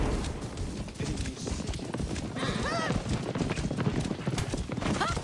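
Bayek's horse trots steadily in Assassin's Creed Origins, rapid hoof clip-clops continuous throughout, with a brief whinny partway and someone talking over the gameplay.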